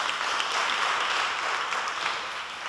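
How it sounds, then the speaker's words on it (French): A crowd applauds steadily, a dense wash of many hands clapping at an even level throughout, with no voices standing out. "Ça s'applaudit encore."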